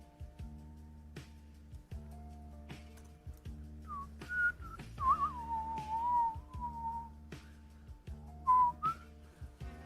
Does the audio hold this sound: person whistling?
yes